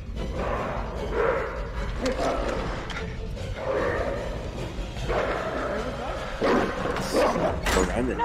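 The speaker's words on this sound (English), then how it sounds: "You locked the puppy out, Mike!" A puppy barks and whimpers in the horror video game Until Dawn, mixed under near-constant overlapping talk from players and game audio.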